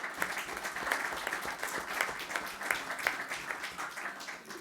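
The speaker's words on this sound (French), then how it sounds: "Je pense qu'on peut les applaudir." An audience applauds the speakers of an IoT panel, a sustained round of clapping with individual claps standing out, steady from start to finish before easing off at the end.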